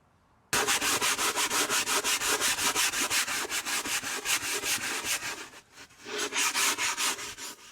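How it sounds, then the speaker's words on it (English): Steady back-and-forth scrubbing with a stiff brush on a narrowboat's covers in a canal-side setting, a rapid rhythmic rasp lasting several seconds with a brief pause near the end before resuming, close and loud with no talk. "And now let's just give it a scrub."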